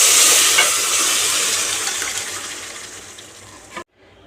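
Mashed spinach hits a pan of sautéed onions for a palak keerai and cowpea dish, setting off a loud, hissing sizzle that slowly fades before cutting off abruptly.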